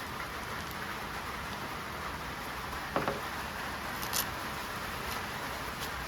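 Steady rain falls outdoors as a constant, even hiss of patter, with a couple of brief, sharper drips or taps and no voices.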